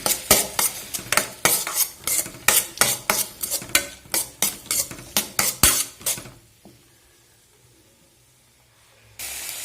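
Onions with turmeric are stirred briskly in a pan, a quick run of about twenty sharp, regular spatula scrapes over a light sizzle, then the pan falls nearly quiet before a last faint rustle.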